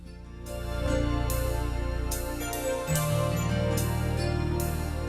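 An Elite EX keyboard plays its Love Ballad accompaniment style: a sustained, full arrangement with deep bass notes, layered chords and steady cymbal-like splashes, loud and continuous with no talking.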